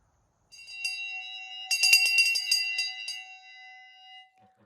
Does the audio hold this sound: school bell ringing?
yes